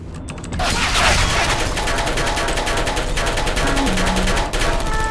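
Turrets in the game Portal 2 open up with rapid, continuous automatic fire, a dense loud rattle that starts abruptly after a brief quiet moment and keeps going, with a short electronic tone near the end.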